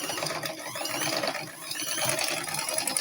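A sewing machine stitching fabric for an Agbada bubu garment, a fast, steady mechanical whir with a rapid clattering rhythm, close and continuous throughout with no talking.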